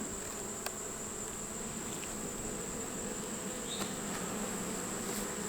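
Honeybees in a weakened hive colony, light on food and with a failing queen, hum in a dense, steady buzz throughout, close and constant, without any talking.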